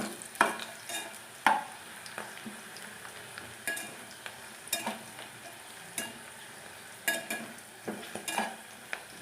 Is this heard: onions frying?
yes